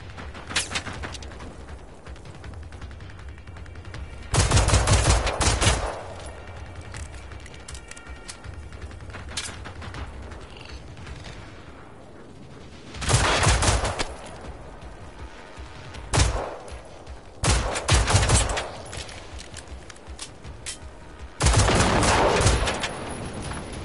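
Gunfire in the video game Generation Zero comes in several loud separate bursts, each a rapid string of shots, with quieter background rumble between them and no talk.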